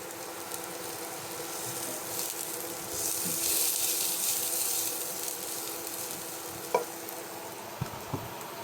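Meat for Ilocano pork liver igado sautéing with garlic in a pan, a steady close sizzle and frying crackle with occasional stirring scrapes and a few sharp utensil knocks toward the end.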